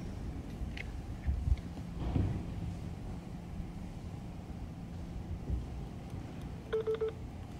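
Telephone dialing tones keyed on a phone, a short run of beeps near the end after faint background noise, with no talk.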